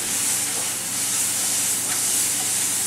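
Mushrooms frying in oil in a pan, giving a loud, steady, close hiss and sizzle that holds even and unbroken throughout.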